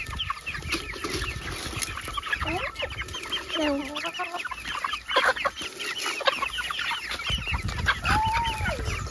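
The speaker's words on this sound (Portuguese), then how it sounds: "Essas galinhas" Chickens on a farm cluck in a dense, overlapping chorus of short calls, with an occasional drawn-out squawk, all fairly close and continuous throughout.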